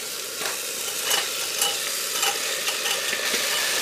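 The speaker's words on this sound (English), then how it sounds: "Now we'll mix everything" Roasted cauliflower and potatoes are stirred in a sizzling masala of chili, coriander and cumin powders, a spoon scraping and knocking repeatedly against the pan over a steady frying hiss.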